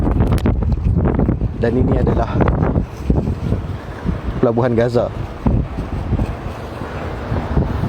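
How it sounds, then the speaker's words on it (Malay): Strong gusts of wind buffet the microphone on a rooftop overlooking the port of Gaza, a loud continuous roar that partly masks someone speaking throughout. "Dia kuat angin sebab duduk atas atap."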